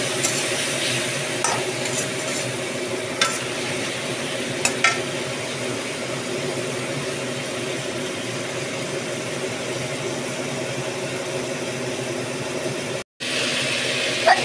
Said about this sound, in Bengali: যতক্ষণ তেল না ছেড়ে দেয়, কাঁচা গন্ধ না যায়, ততক্ষণ আমি এটাকে মশলাটাকে কষাবো।